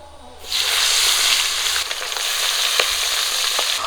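Pabda fish frying in hot oil for a curry, a loud steady sizzle bursting in after a brief quiet start and holding dense and close, with a few small pops, no talking.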